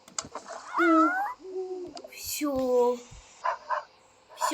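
A dog barks and yelps in short bursts nearby, mixed with a person shouting over it.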